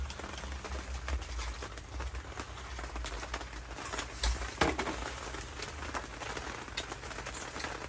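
Rain falling steadily outdoors at a field site, a dense constant patter with scattered louder drops and a few brief knocks, moderately loud, with no talking.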